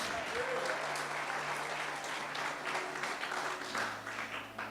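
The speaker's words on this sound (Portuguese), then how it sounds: "Então eu ofereço uma salva de palmas a Jesus." A church congregation claps together during a service, dense steady applause filling the room for several seconds before thinning out at the end.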